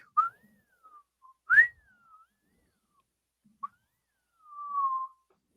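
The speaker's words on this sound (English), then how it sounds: "I thought you guys were gonna whistle back." Short whistled phrases, a few rising and falling tones with gaps between them, sounding clear and fairly close in a quiet room during a casual Star Trek discussion about whistlespeak.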